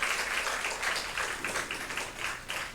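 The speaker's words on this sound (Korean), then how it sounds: "우리 박수로 축복을 하겠습니다." A church congregation claps together at a Sunday morning service, several pulsing waves of steady applause heard from a distance at low level, with no speech.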